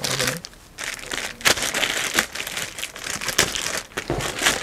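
Plastic packaging on a car chrome accessory crinkles and rustles in bursts close by as it is unwrapped in a car accessories shop, with faint talk in the background.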